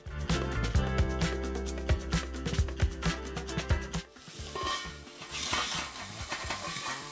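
Cockles dropped into a very hot saucepan with a drizzle of oil, a busy crackling clatter of shells and sizzling that fades into a softer, steady hiss.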